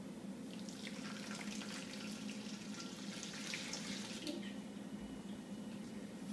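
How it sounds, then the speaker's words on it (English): Boiling water running steadily into a bowl, a continuous gentle splashing with a soft hiss, close and unbroken for several seconds. "Now I'm just going to pour the 1 cup of boiling water into my bowl."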